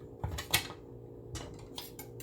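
A paring knife cuts through bell pepper, mushroom and fresh garlic on a board, giving a few sharp close knocks and clicks spread over a couple of seconds against a quiet room hum.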